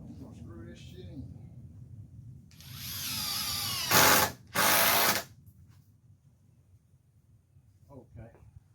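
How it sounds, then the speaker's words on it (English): A cordless impact driver sinks screws into pallet wood in two loud, sustained bursts with a short gap between them, preceded by a rising whir. Low background noise and faint voices surround the bursts. "we're going to use the impact. I'm going to screw this shit in"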